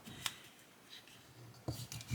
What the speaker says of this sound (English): Yes, they shuffle fine. They don't stick together.